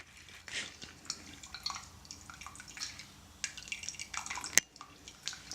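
Wet casein curds from milk being squeezed and drained, giving a scattered run of drips, small splashes and liquid trickles at close range with no talk.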